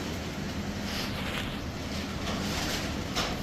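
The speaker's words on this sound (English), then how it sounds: "It's kind of windy today here" Steady wind buffets the microphone, a constant broad rumble with slight gusty swells and no voices.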